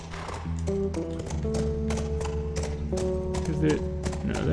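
Steady horse hoof clopping from the video game The Last of Us Remastered, mixed under a continuous music bed with sustained tones and occasional talk.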